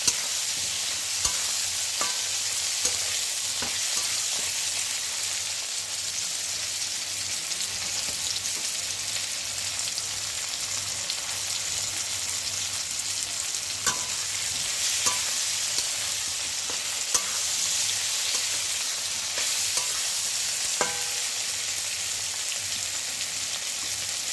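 Chopped tomatoes fry and get stirred in a pan for a Bengali cauliflower and egg curry, a steady close sizzle with scattered scraping clicks from the spoon, no talking.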